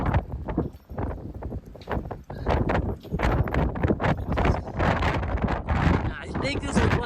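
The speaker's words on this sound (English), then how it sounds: "Hear the wind." Strong gusting wind on a winter morning in Wyoming, buffeting the microphone with loud, continuous rumbling roars and surges throughout.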